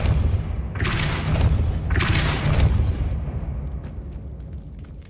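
Depulso force spell from the Hogwarts Legacy video game, heard as two loud whooshing blasts about a second apart, each with a deep booming rumble that slowly fades into a lingering low drone.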